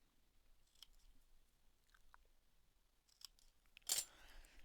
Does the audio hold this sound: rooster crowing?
no